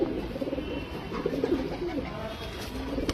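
Bangalore tumbler pigeons coo in a low, continuous murmur, several birds overlapping at close range with a steady soft rumble throughout.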